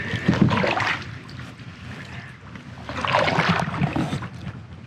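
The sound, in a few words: paddling a kayak on Silver Springs river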